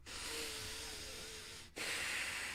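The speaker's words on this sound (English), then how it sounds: "Look how loud I am when I breathe through my nose, though." A person breathes loudly through the nose: one long hissing inhale, a brief pause, then a harsh close exhale, with no speech.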